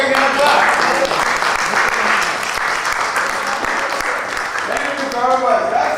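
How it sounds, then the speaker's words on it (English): Applause from a theatre audience at a senior citizens' performance, a dense steady roar of many hands lasting throughout, with a few voices calling out over it near the end. "Give her a big applause."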